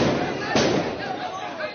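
During a street protest in Mandalay, Myanmar, where protesters behind sandbags throw fireworks at soldiers and police, a sharp burst rings out under a continuous narrating voice.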